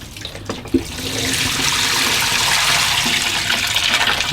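Water pours steadily onto young plants in a hydroponic kit, a continuous close trickle and splash after a few small knocks at the start.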